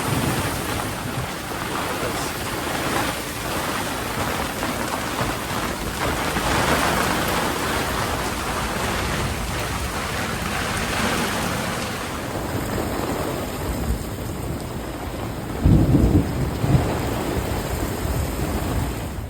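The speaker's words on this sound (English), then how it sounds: "Hectic storm just came through" A hectic thunderstorm over a sailboat at sea, with steady heavy rain pounding down and thunder rumbling throughout, loud and continuous, with no voices.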